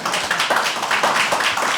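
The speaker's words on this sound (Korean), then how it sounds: "박수로 좀 환영해 주세요." A small gathering in an office claps in welcome for a guest at a Korean campaign event, giving close, moderately loud claps that fall into a loose, fairly even rhythm.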